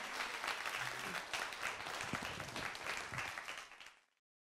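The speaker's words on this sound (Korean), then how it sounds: "지루했다라고 생각하지 않는 분만 박수 치면서 마치도록 하겠습니다" A lecture audience at a Korean special talk applauds at the end of the session, producing dense, sustained clapping at close range that holds steady for several seconds before fading quickly to silence.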